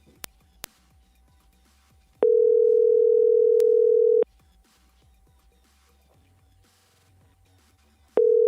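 Telephone ringback tone on an outgoing call: two long steady electronic tones, each lasting about two seconds, separated by a quiet gap of about four seconds, with faint clicks and quiet room sound in between.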